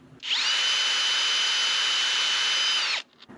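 A power drill fitted with a screw extractor bit whines steadily at high speed for nearly three seconds, close and loud, then spins down and stops.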